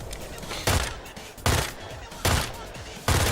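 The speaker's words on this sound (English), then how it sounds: "there's a fun SMG right there, right? A machine pistol" Bursts of rapid SMG machine pistol fire in the video game Highguard, four loud close volleys at fairly even intervals with brief pauses between them.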